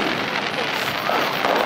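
A Fourth of July fireworks show fills the air with a continuous wash of crackling bursts and rumbling booms, loud and dense, with voices faintly beneath.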